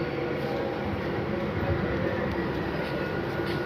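A train rumbles steadily at Khardaha railway station, a continuous low roar of rolling carriages that fills the whole stretch with no clear pauses.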